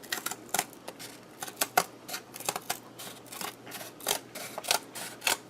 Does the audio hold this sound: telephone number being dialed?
no